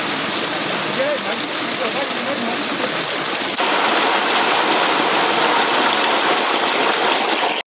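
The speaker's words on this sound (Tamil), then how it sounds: "ஒரு ஃபால்ஸில் வந்து உட்காந்துருக்கோம்" A waterfall pours with a dense, unbroken rushing roar, loud and close, swelling slightly partway through and holding steady until it cuts off.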